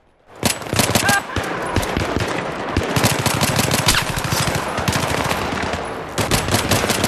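Rapid automatic gunfire in the video game Battlefield 3. Dense, loud bursts of shots fire almost continuously with only a brief pause near the end.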